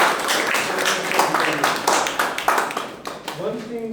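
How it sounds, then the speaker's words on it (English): An audience at a speaking club meeting claps steadily for several seconds, a dense, moderately loud patter with a voice breaking in near the end. "Let us with a big round of applause."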